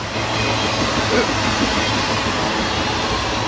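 A video-game train rumbles past in a steady, loud, continuous roll with a low mechanical drone and faint clatter throughout.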